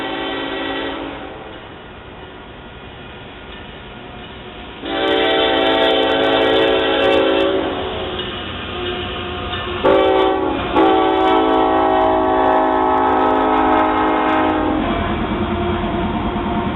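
A Union Pacific freight train rumbles past steadily on Beaumont Hill with clattering wheels near a road crossing, while a loud multi-tone horn blasts in long bursts, close by and dominant throughout.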